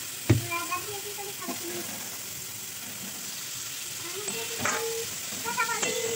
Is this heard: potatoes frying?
yes